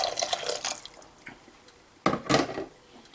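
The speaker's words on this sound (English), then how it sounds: "Take a little bit of boiling water." Boiling water poured into a pan of nettle and garlic soup with onion and lentil, heard as close, brief splashy pours and drips, with a louder burst of liquid late on.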